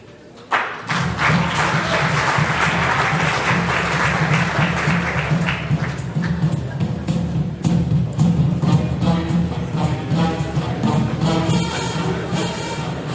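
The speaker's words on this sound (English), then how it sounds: "a massive round of applause, ladies and gents, for all the award winners so far" Awards-ceremony audience breaks into a loud, sustained round of applause that starts abruptly and carries on steadily with dense clapping, a low rumble and occasional thuds throughout.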